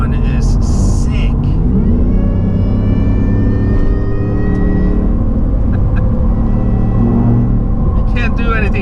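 Supercharged Shelby F150 pickup with a Whipple blower, its engine rumbling loud and close with a rising, whining pitch that climbs steadily, while people talk over it throughout.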